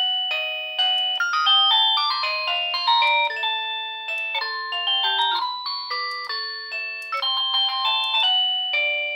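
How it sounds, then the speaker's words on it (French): An Annke wireless video doorbell chime plays its classic ringtone, a bright sequence of melodic electronic bell tones struck one after another in a flowing tune that keeps repeating. It is loud and close, with no talking. "Ouais, et là, la sonnerie classique."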